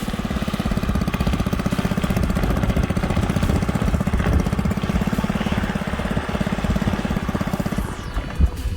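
A 7hp outboard motor pushes a 10ft jon boat, a steady, loud, close mechanical drone with a fast rapid pulse running throughout and no talk over it.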